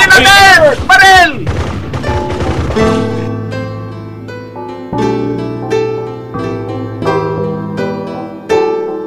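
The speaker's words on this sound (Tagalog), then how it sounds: "Barilin natin! Baril!" A loud burst of several gunshots in a Filipino radio drama as characters fire at a giant snake. The shots crackle up front before giving way to dramatic background music.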